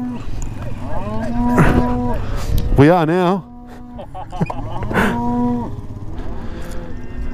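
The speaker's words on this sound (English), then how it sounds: "They've got all the cattle in the pen." Cattle penned during a mustering in the Australian desert give several loud, drawn-out moos, one after another, with a brief spoken phrase between them.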